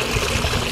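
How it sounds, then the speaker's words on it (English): Water poured into a backyard dunk tank, a brief steady gushing splash, close and fairly loud, with no voices over it. "I want to see how much water she puts."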